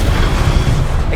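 A Confringo blasting spell explodes in Hogwarts Legacy, giving a loud, sustained low boom that rumbles steadily through the whole moment without pause.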